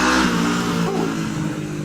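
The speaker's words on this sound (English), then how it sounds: "Ooh. Motorcycle." Motorcycle engine roaring past nearby on a road, loud at first and fading as it moves away.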